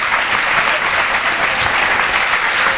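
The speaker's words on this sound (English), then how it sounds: "how about a round of applause for that?" An audience claps steadily throughout, a full, even round of applause with no breaks and no voices over it.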